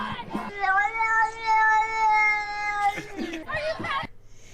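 A cat meows loudly up close in one long drawn-out, wavering call, followed by a shorter meow.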